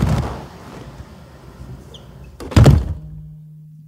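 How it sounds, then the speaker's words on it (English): Heavy-duty reinforced doors of an anechoic chamber swing shut with one loud, deep thunk and a brief clatter, and then everything falls to a dead hush. "You just heard me being locked into an anechoic chamber."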